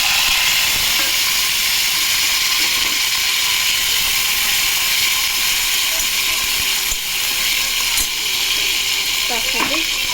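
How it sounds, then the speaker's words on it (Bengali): Chopped tomato and green chili sizzle steadily in hot oil in a wok, a loud, continuous frying hiss with a few faint clinks near the end. "তেল গরম হয়ে গেছে, তো আমি এর মধ্যে একটা টমেটো আর কাঁচা লঙ্কা কেটে রেখেছি,"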